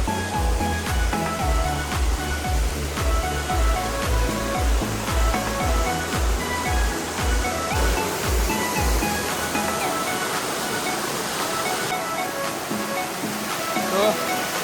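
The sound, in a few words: waterfall water flowing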